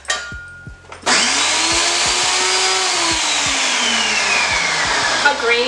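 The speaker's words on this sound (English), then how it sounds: "And we're blending it." A blender whirs through a banana bread mixture, starting with a few knocks and then jumping to a loud, steady motor whine with a slowly shifting pitch that holds to the end.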